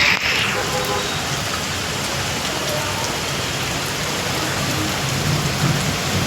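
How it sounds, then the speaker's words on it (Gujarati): Heavy rain pours steadily outdoors, a dense continuous hiss of drops on surfaces that stays loud and even throughout, with a brief rumble near the start and voices faintly underneath. "તમને કેટલો વરસાદ પડે છે, જો બહુ વરસાદ છે"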